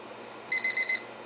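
A kitchen timer beeps in four quick, evenly spaced high-pitched bursts over a low background hum.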